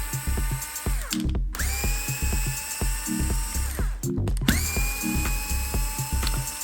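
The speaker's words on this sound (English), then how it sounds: "taking all 4 screws out." A small power driver unscrews the four screws holding a servo in a Traxxas TRX-4 RC truck, whining in repeated bursts that slow and rise in pitch, with short pauses between screws.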